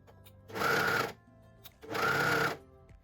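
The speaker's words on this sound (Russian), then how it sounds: "Теперь мы должны здесь проложить строчку на швейной машинке," A sewing machine stitches a seam on high-waisted overlapping lingerie briefs, two close, even bursts of rapid whirring, each about half a second long, separated by a quiet pause.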